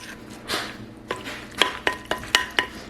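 A big spoon stirring sweet potato cornbread batter in a bowl, a series of short, close scraping knocks coming in a loose rhythm, louder toward the end.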